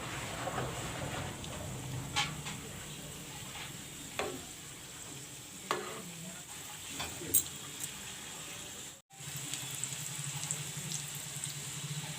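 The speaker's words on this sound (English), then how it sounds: "The oil is turned hot. Now I will put in the rolls." Vegetable rolls deep frying in hot refined oil give a soft, steady sizzle with scattered pops and crackles and a brief drop-out near the end, fairly faint throughout.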